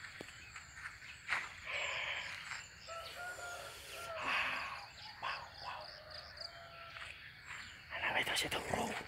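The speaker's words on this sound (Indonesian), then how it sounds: "Burung di pagi hari banyak sekali" Morning birdsong of chirps and whistled calls, with croaking frogs mixed in and occasional louder bursts of noise throughout.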